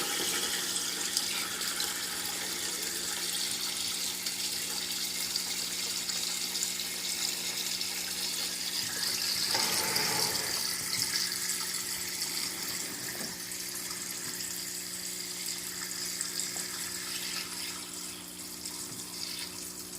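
Water drains steadily from a planted aquarium tank, a continuous rushing, gurgling flow that holds at an even level throughout with no one talking.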